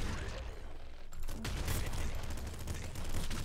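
Rapid assault rifle fire from the Nuclear Throne video game: dense, continuous bursts of automatic shots with a brief lull near the one-second mark, layered over busy game sound.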